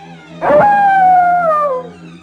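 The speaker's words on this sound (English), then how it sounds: "All manner of creatures began to screech, growl, and howl." A single canine creature howl from a horror story, one close, loud rising-then-sliding wail with a rough onset, lasting over a second before fading out.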